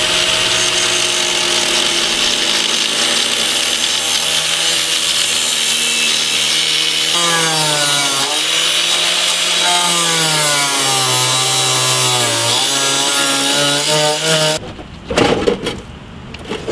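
A power tool grinds steadily through the bumper of a Nissan S13 coupe for about fourteen seconds, its pitch sagging and rising with the load, then it stops, leaving brief clattering noises.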